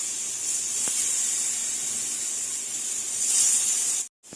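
Soaked elephant foot yam pieces go into hot oil on a tawa with a continuous, bright hiss of frying. The sizzle swells slightly near the end, then cuts off abruptly, and no voices are heard.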